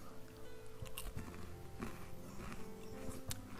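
Quiet crunchy chewing of Honey Comb Big Bites cereal eaten dry as a snack, with irregular bites and crunches close to the mouth.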